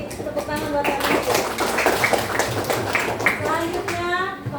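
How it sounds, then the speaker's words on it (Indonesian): Children in a classroom lesson clap for their classmate Habibi, with quick, scattered clapping running under a teacher's voice. "Tepuk tangan buat Habibi"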